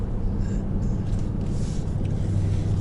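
Inside a 2020 Nissan Titan descending a hill in tow haul mode, the engine drones as a steady, low rumble that fills the cab without a break, heard alone with no talking.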